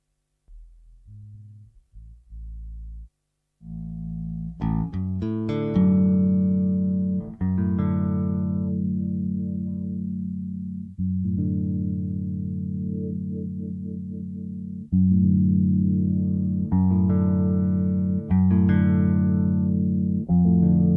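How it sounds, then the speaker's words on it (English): An Alembic bass runs through a Soma Cosmos, with sustained low notes swelling under a resonant filter sweep. The tone repeats in several long phrases, close and loud, and there is no talking. "you could hear the res sweep on the bass when you turn it"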